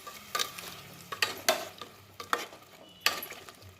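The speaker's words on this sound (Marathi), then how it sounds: "आता ह्या पाकात आपण हे टाकून द्यायचं तर आता हलवायचं" Fried khaja sweets stirred through sugar syrup in a pan, with about six distinct scraping strokes spaced unevenly over a soft bubbling hiss, close by with no voices.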